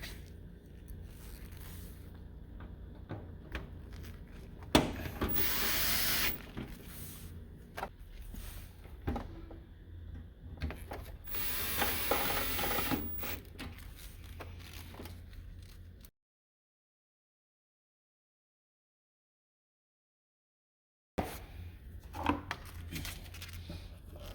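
Two screws being driven back into a Master Chef VWD1068BLS water cooler during a leak repair: close, scattered clicks, scrapes and rustling handling noises, then a few seconds of silence before more brief clatter.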